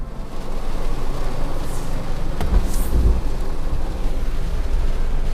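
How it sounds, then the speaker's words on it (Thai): Heavy rain pours down at Jomtien Beach in Pattaya as a dense, steady roar of falling water with low rumbling and gusty wind buffeting, loud and unbroken the whole time. "ณตอนนี้นะครับผมฝนก็ตกในที่เรียบร้อยแล้วนะครับผม"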